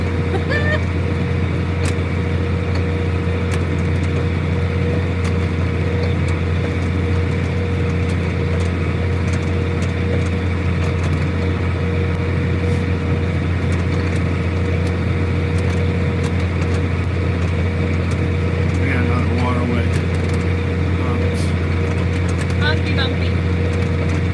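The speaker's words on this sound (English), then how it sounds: "This tractor's got enough power that I put the rev limiter way down" A tractor engine running, heard from inside the cab, a steady low hum with a constant tone that continues evenly throughout while someone talks over it.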